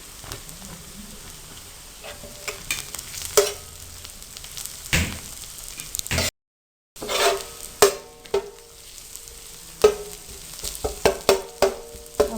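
Onions fry in hot oil with cumin and bay leaf for tawa pulao, a steady soft sizzle broken by sharp clinks and scrapes of a spoon stirring the pan, close by and without speech.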